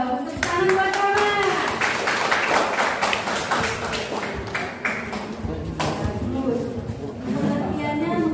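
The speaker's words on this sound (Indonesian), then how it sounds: "Tepuk tangan buat Rahma." A classroom of students clap for a classmate in response to the teacher, a dense patter of hand claps with children's voices and chatter mixed throughout.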